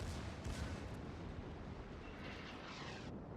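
Heavy naval gunfire from the cruiser Pensacola in World of Warships, a dense continuous rumbling barrage with booming low-end thuds, steady and loud throughout.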